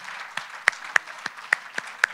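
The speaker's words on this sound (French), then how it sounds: "Madame Hamadi est là, vraiment on l'applaudit" Audience applause in a meeting hall: a few scattered, separate claps in an uneven rhythm, sparse and fairly close, with no voices.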